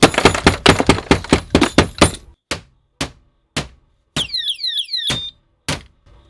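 Car anti-theft alarm device being struck with a hammer: a fast run of sharp hard knocks, then slower single blows, with a brief chirping electronic siren sweep between hits.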